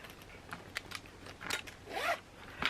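The zipper on a handmade fabric pouch is pulled open in several short, quick zipping strokes. They sound close but fairly quiet, with no talk.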